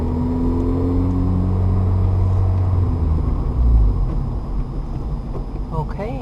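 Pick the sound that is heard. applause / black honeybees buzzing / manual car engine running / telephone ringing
manual car engine running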